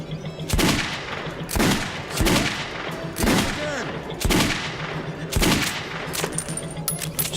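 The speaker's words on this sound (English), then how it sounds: "I love the revolver in this game." Revolver fire in the video game Metro 2033 Redux: six or so loud, sharp gunshots at a steady, unhurried pace, each with a short echoing tail in an enclosed tunnel-like space, with faint game ambience between shots and no talking.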